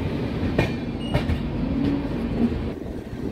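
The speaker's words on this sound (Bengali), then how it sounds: "তো শুরু হয়ে গেছে আমাদের ট্রেন জার্নি" A train runs along the rails with a steady low rumble and faint periodic clacks, heard from inside the moving carriage without pause.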